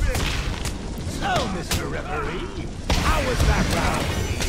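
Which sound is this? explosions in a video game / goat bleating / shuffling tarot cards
explosions in a video game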